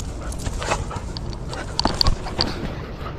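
A Belgian Malinois plays, giving soft whimpers, yips and a few short sharp vocal bursts over scuffling movement, nearby and moderately loud.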